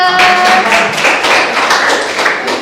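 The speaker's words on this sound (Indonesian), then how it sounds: "Kita beri tepuk tangan untuk kelompok 3." A classroom gives a round of applause to presenting group 3, with dense, close clapping of hand taps that is loud at first and then eases a little over a few seconds.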